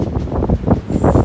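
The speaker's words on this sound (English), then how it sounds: "Super windy out here." Gusty wind blows outdoors at a swim practice near a camping trip, a rough low rumble that rises and falls in short, close bursts across the whole moment, with no talking.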